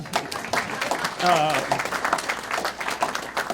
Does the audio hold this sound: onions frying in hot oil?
no